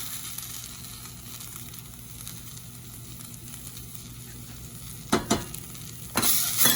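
Tomato salad and tomato sauce simmer and sizzle in a pan for a bruschetta chicken pasta, a soft steady frying hiss close up, then a few sharp scrapes and a louder burst as the mix is stirred.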